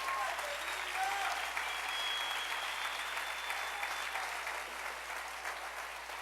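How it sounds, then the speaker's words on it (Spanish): A church congregation claps loudly and continuously, the dense applause easing off slightly toward the end. Faint voices sit beneath it. "Dale un fuerte aplauso al Rey."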